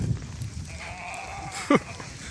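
A single short goat bleat rings out near the end over a quiet outdoor background with faint rustling.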